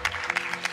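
Audience applause in a television studio, a brief burst of light, scattered clapping lasting under a second.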